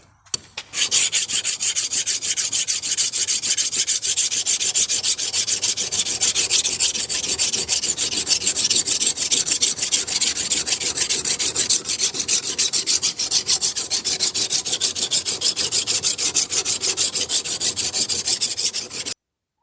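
A new hand plane's sole is rubbed back and forth on coarse abrasive at a 45-degree angle to flatten out machining marks, giving a steady, loud, continuous rasping scrape that runs without a break.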